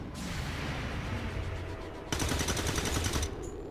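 Gunfire in the turn-based tactics game XCOM 2: War of the Chosen, a burst of rapid shots cutting in loudly after a stretch of low background rumble, then stopping abruptly.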